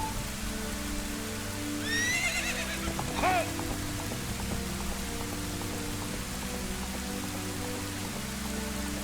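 Steady rain patters from a small personal rain cloud following Ganondorf in a Zelda game, a constant even hiss with a brief horse whinny rising partway through.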